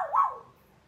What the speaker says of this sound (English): Sorry about my doggy barking in the background.